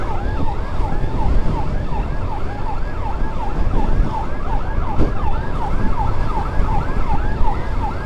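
A hospital escort vehicle's wailing siren sweeps up and down repeatedly over steady road traffic noise, loud and close, with no talking.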